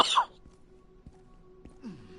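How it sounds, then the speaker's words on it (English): A single short cough from a man who has just eaten spicy food, sharp and close at the start, followed by quiet room tone and a faint breathy sound. "Just got a little cough."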